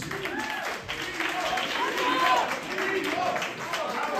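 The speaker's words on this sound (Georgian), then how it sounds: "აპლოდისმენტები ჩვენ მეომრებს! აპლოდისმენტები!" Crowd applause at an MMA fight night for the fighters after a bout, broad clapping and cheering noise filling the hall with a voice calling out over it.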